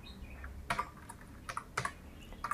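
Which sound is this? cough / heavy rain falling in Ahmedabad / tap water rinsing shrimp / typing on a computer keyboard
typing on a computer keyboard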